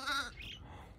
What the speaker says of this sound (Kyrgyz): Мына козуларга карачы.